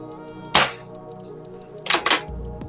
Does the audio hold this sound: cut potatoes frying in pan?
no